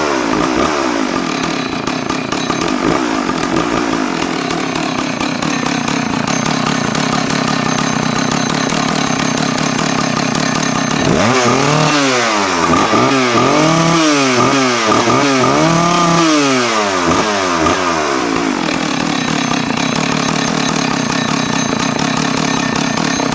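A Husqvarna 2101XP professional 100cc chainsaw runs loud and close, holding a rough, steady idle before revving up and down in a series of sharp surges, then settling back to idle.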